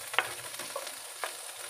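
Ginger sautéing in a pan: a short burst of stirring and sizzling, with a few sharp scrapes of a utensil against the pan over a soft frying hiss, close and without speech.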